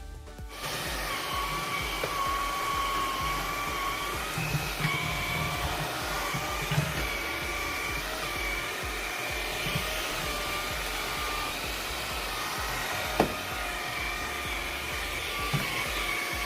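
Xiaomi Dreame V10 cordless stick vacuum cleaner running in a home: a loud, continuous motor whine with steady high tones, broken by a few faint clicks and bumps as the head moves around.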